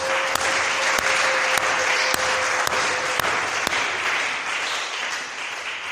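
A church congregation at a pastor's French-language sermon bursts into steady, dense applause that stays loud throughout, with sharp clap accents scattered across it.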